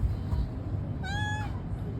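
A single short cat meow rises clearly over a low background rumble, close by.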